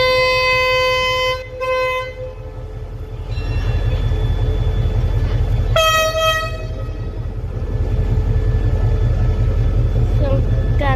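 Rapid train 171 pulls into Phetchaburi station, its wheels thumping rhythmically on the rails while the train horn blows loudly several times, heard close from above the platform.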